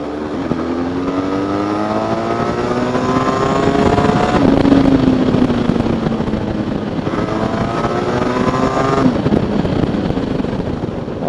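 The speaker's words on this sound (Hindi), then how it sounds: "The exhaust note and the silencer of this Benelli is amazing." A Benelli motorcycle rides on a highway, its exhaust note rising through repeated revving sweeps as it accelerates through the gears. The roar is loud and steady under wind noise, with no talking.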